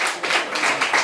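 An audience applauds at a stand-up comedy cancer benefit show, a short burst of dense, steady clapping from a crowd, fairly loud and close with no talk over it.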